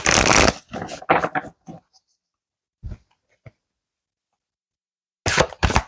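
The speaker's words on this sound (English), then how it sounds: "Let's shuffle this one more time." Tarot cards shuffled in several quick papery riffling bursts, close and fairly loud, with a gap of near silence and a few faint taps between them.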